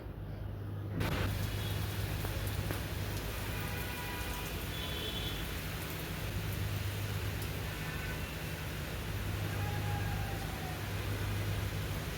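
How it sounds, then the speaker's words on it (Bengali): Heavy rain pours down in a steady, dense roar that fills the whole stretch, with a faint low hum beneath it and no voices. "আজকে আপনাদেরকে একদম অরিজিনাল বৃষ্টির শব্দটা শোনাবো দেখেন"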